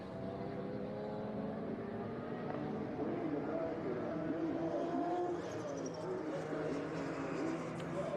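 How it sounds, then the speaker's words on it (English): Vintage race cars roar around the Monterey track at a historic motorsports reunion, a steady, dense engine drone at moderate distance that holds for the whole stretch, with commentary voices talking over it. "they make a beautiful sound roaring around the hills of Monterey"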